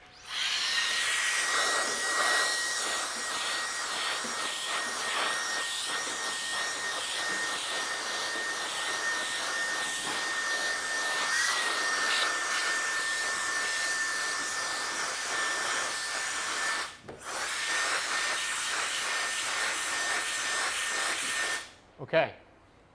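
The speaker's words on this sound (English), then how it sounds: "I don't know if you guys have ever used these little Amazon blowers, but these things are like actually insanely strong" A small, powerful electric air blower bought from Amazon blasts dust out of GPU mining rigs with a loud, continuous high-pitched whoosh. It cuts out briefly twice near the end, and a person talks quietly underneath.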